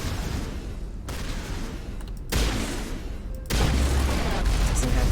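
A hard-hitting weapon fires in a sci-fi shooter game, with sharp blasts that cut in suddenly and a loud, heavy rumble that steps up in stages over a few seconds.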